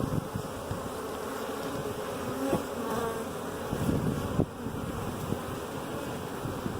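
A honey bee colony in winter gives off a close, steady droning buzz, a low continuous hum with occasional louder passes and small knocks.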